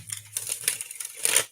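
A deck of playing cards is shuffled by hand at a live reading session, giving a few quick, close riffling and crinkling bursts with short pauses between them, no talking.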